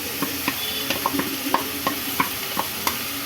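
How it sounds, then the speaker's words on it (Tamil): Curd mixture stirred into a pan of sautéed chillies, a rhythmic series of sharp spoon-on-pan taps and scrapes over a continuous hiss of sizzling, close and fairly loud. "இப்போ நம்ம மிக்ஸ் பண்ணி வச்சுருக்க இந்த கேர்டை இதில் ஊற்றிக்கலாம்"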